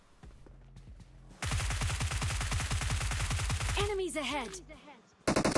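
Automatic gunfire in the mobile battle-royale game PUBG Mobile sounds as a loud, rapid, steady burst of shots lasting a few seconds, followed by a spoken in-game callout and another sudden burst at the end.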